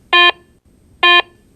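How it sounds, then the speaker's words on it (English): Two identical steady electronic beeps from a Garrett Ace 350 metal detector signalling an iron target, each about a fifth of a second long and spaced nearly a second apart, loud and clean with no talking. "Ferrous targets, such as iron and nails, usually produce a low-pitched audio signal"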